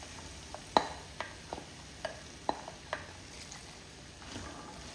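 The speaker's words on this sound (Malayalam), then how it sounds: "അതിലേക്ക് 1 കപ്പ് കടല വേവിച്ചത് ഇട്ട് കൊടുക്കാം." Cooked chickpeas stirred into a masala frying in a pan, a faint steady sizzle beneath a series of soft spoon taps and scrapes at a loose, irregular rhythm, heard close with no talking.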